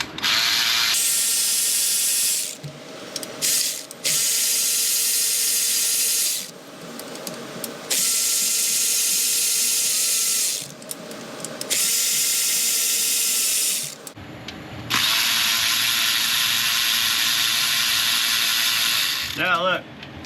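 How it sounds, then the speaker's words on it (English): A ratchet working loose the timing cover bolts on a Jeep Wrangler 3.6 engine: bursts of rapid metallic clicking, each lasting a second or more, separated by short pauses, close and loud. "Let's get these timing cover bolts off of here."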